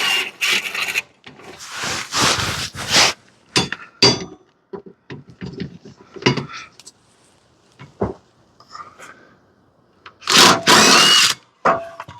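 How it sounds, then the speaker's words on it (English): A power tool, likely an impact driver or wrench on a 9/16 fitting, works a spindle loose on a Bad Boy zero-turn mower deck, firing in several short bursts between clanks, rattles and handling noises. "let's get this spindle off of here, y'all. 9/16."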